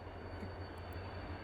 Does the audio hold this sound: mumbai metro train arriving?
yes